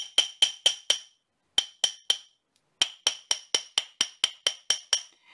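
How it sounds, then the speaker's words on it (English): Sharp metallic hammer taps on a ring shank ring out in quick bursts of three or four, then a steadier run of about ten even strikes, close and bright with no talking. "So first we'll just hammer."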